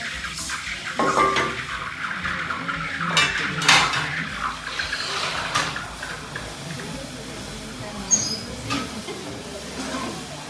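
Hot purified gold is quenched in water, giving a soft hiss and bubbling along with metallic clinks of tools and containers, intermittent and fairly close, with faint voices in the background.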